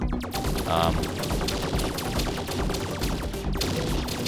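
Rapid arcade blaster fire from the player's ship shooting down enemy craft in the vertical-scrolling shooter Icarus-X, a dense, continuous barrage of clicky shots layered over busy game music.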